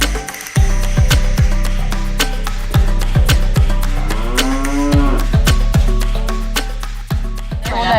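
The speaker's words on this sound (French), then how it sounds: "On allait voir. Avec des vaches laitières." Dairy cows on a farm moo loudly and close by, with one long drawn-out low call standing out in the middle over a busy farm background, and no speech.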